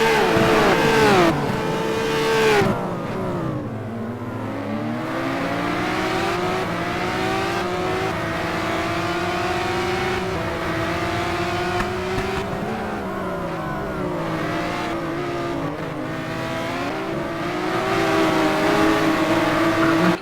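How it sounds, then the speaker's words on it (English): A race car engine screams around a speedway, its pitch dropping and then climbing through repeated revving sweeps, loud and continuous for the whole stretch with no talking. "We took a moment there just to appreciate the sheer engine sounds of what Raceway's got"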